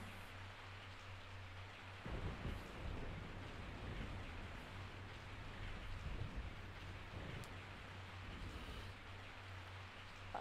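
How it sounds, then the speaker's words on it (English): Steady rain falls continuously in the Resident Evil 3: Nemesis video game, with a low rumble of thunder swelling underneath, moderately quiet and without voices. "I woke up to the sound of falling rain"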